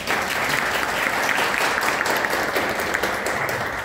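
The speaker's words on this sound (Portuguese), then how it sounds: "Então vamos receber uma salva de palmas." A training-course audience gives a round of applause for an introduced speaker, loud dense clapping from many hands sustained evenly for several seconds.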